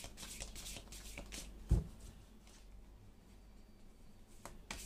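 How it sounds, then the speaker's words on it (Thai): Tarot cards being shuffled by hand: soft, faint riffles and papery taps in quick irregular bursts, with one sharper knock, in a quiet room. "ชุดที่2เดี๋ยวอาจารย์สับไพ่แล้วถอดใจคนนั้นก่อนนะ"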